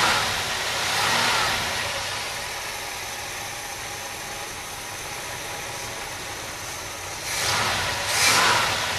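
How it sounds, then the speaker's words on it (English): A freshly rebuilt Oldsmobile 403 V8 in a G-body car runs on its first start, a steady rough idle with two louder revs near the start and end, heard alone without talk. "Well, that's it. 403 is running."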